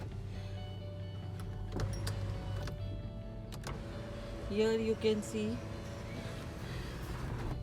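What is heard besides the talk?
car driving in the desert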